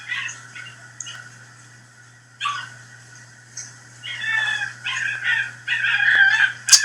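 A dog whimpering and yipping in short high-pitched bursts, several cries spread across the clip and growing more insistent toward the end, with a steady low hum underneath.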